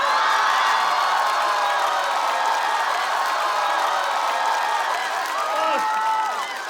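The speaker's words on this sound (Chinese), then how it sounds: "掌声！" A stand-up comedy crowd breaks into sustained applause and cheering, with dense clapping and scattered whoops that fill the room, easing slightly near the end.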